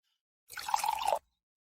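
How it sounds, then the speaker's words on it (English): Bordeaux red wine poured into a burgundy glass, a single smooth liquid pour lasting under a second, clear and close with nothing else around it. "You're pouring Bordeaux into a burgundy glass"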